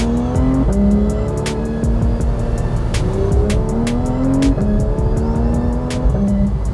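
A naturally aspirated Porsche with a double-clutch transmission accelerates hard through an S-turn, its engine note rising in repeated sweeps between quick upshifts, loud and close, with no talk.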